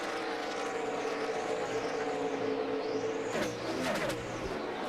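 NASCAR stock cars on the final lap of the 2012 AAA 400 at Dover's Monster Mile, with loud, sustained engine roar and a passing car's pitch sweeping by near the end.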